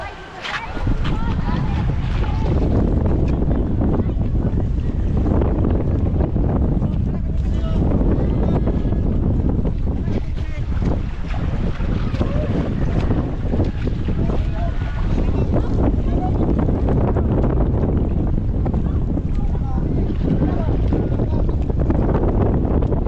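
Bangka outrigger boat crossing the sea off Camiguin Island, its steady engine rumble and rushing water blending with strong wind buffeting the microphone, loud and continuous throughout.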